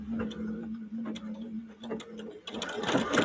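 A sewing machine stitches a matrimony wedding quilt block, starting with light rhythmic ticking and rising into a louder, busier mechanical whir toward the end, with faint voices nearby.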